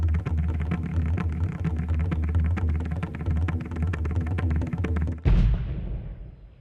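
After several seconds of rapid rhythmic pounding, a single heavy cannon boom bursts out and rings away into a fading echo.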